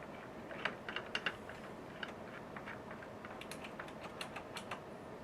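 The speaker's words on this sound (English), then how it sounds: "You like pressing the buttons on a keyboard?" Keys on a computer keyboard are pressed in a quick, irregular series of faint clicks and taps, heard close by in a quiet room with no talking.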